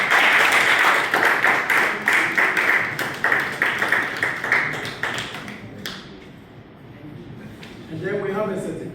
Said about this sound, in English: Oh, please clap.